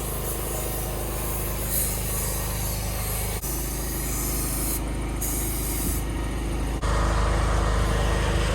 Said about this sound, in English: Getting some spraying going.